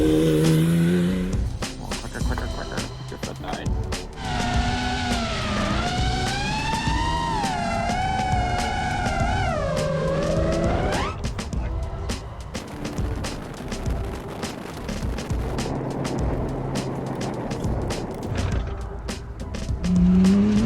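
Rally Porsche engine revving and tires squealing as the car drives around a corner at a vineyard, a loud, sustained roar with rising and falling pitch that stays near throughout, with no talking.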